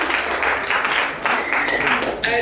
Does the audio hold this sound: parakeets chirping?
no